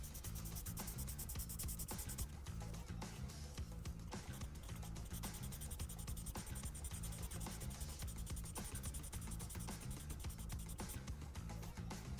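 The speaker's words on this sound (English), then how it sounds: "let's get this sanded down. Now I am using a sanding pad here" Close, steady back-and-forth rasping strokes of a sanding pad on a curved plastic model kit part, quiet but continuous, with a regular scrubbing rhythm and no voices.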